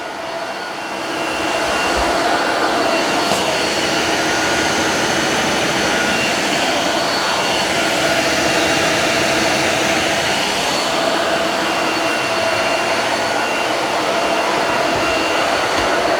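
A Tineco Floor ONE S7 PRO cordless wet-dry vacuum runs continuously at full power, a dense roaring whoosh with a high whine, steady throughout with no voices.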